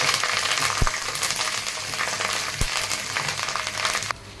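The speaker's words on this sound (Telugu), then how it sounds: "కరివేపాకు, ఇప్పుడు ఇవి బాగా ఫ్రై చేయాలి" Curry leaves fry in hot oil in a pan, a loud continuous crackling sizzle close up with a couple of sharp knocks, fading abruptly near the end.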